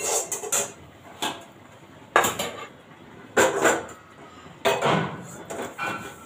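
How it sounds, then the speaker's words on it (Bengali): A wok (kadai) being washed at a home kitchen sink after frying greens, with repeated bursts of metal clattering and scrubbing at close range, separated by short quieter gaps. "কড়াটা একটু ধুয়ে নিলাম"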